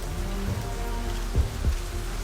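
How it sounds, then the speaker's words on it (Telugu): Heavy rain pours down steadily, a dense continuous hiss of drops hitting surfaces, with a couple of louder splashes near the end and no voices. "అరే, వర్షం బాగా పడుతుంది."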